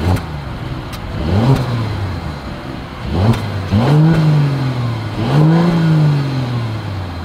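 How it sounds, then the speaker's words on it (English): A 2023 Mercedes S500 engine revs up three times in quick bursts, the exhaust roaring then dropping back to idle between each, close and loud. "As always, here is that exhaust clip."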